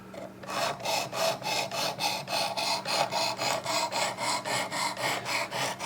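Knife blade drawn repeatedly through a Work Sharp knife sharpener, giving a steady run of about fifteen evenly spaced rasping strokes, close and fairly loud, with a faint hum underneath and no talking.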